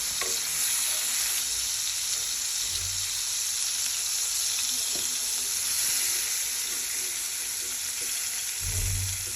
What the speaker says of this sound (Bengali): একটু ভালো করে লাল লাল করে ভেজে নিলেই চলবে তো আমি উল্টে দিচ্ছি